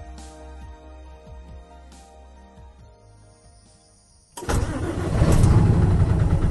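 Diesel heavy truck compared with a hydrogen fuel cell Hino Profia Z FCV truck. A quiet stretch of faint whine and ticking gives way to an abrupt, loud diesel start that settles into a rumbling idle.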